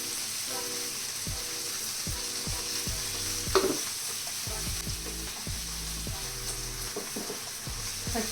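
Steady sizzling of masala frying in a hot pan, with repeated scraping strokes from stirring and one brief louder clatter partway through.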